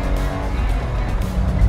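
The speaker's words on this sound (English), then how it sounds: "it's all about that engine sound" A 1989 BMW E30 320i Touring, naturally aspirated, revs hard with a dense, steady engine roar that stays loud and close throughout, with no talk over it.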